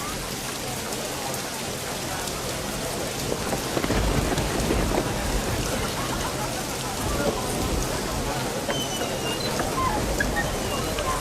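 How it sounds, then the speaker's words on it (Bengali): Steady rain pours down with rolling thunder, the rumble swelling around the middle and lingering under the dense, constant hiss of falling water; no one speaks. "এর জন্যই তো রহমতের বৃষ্টি হচ্ছে।"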